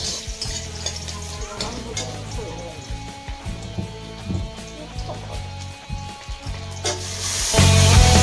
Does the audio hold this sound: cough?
no